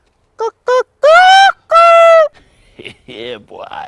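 A person squawks and clucks in a chicken imitation, a few short bursts followed by two longer drawn-out calls, then softer rough vocal sounds.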